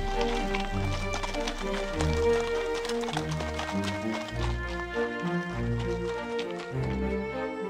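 A horse clip-clops at a steady, rhythmic pace while being ridden on a mountain trail in summer, with the hoofbeats close and clear over a continuous background.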